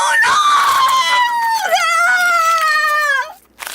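In a Filipino horror drama, a dog gives a loud, close howl that wavers and slides in pitch for about three seconds before cutting off. Clear barking is not evident.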